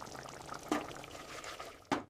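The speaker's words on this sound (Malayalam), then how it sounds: "ഇനി കുറച്ച് കറിവേപ്പിലയും 1 സ്പൂൺ വെളിച്ചെണ്ണയും ഒഴിക്കാം" A spoonful of coconut oil and curry leaves added to a cooked Kerala crab curry, giving two short, soft liquid splashes over a quiet simmering background.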